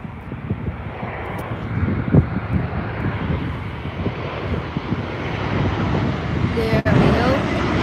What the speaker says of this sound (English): 737-800 coming in for a landing.